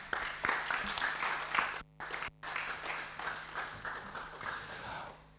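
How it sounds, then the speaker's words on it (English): Audience applause during a housemates' talk show, moderate clapping with individual sharp claps standing out and two brief dropouts partway through, with faint speech mixed in. "Can you please give yourself a round of applause?"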